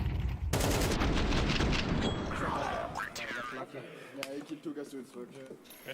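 Gunfire from a Counter-Strike video game match comes as a dense burst of rapid shots up front that thins into scattered pops and thuds, all under excited commentary voices.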